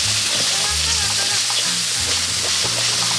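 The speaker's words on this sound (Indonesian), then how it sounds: "kita tumis sampai ini bumbunya nanti harum ya sahabat." Spice paste for sayur bumbu matahari stir-fries in hot oil, giving a constant close sizzle with occasional scraping stirs and faint clatter throughout.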